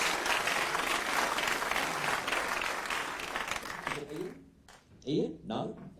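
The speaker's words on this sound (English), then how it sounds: "A round of applause for all of the finalists." Audience applause for the finalists at an ethical investment awards ceremony, a dense, sustained wash of clapping that fades after about four seconds as people begin talking.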